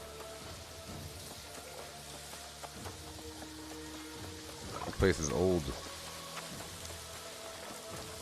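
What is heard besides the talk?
rain in video game New World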